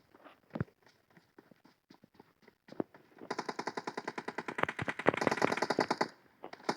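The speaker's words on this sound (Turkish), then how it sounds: "Yerden bir M4 sesi geliyor." Faint scattered clicks give way to a rapid burst of M4 automatic rifle fire in PUBG, sustained and crackling, somewhat distant, with game-like sound effects.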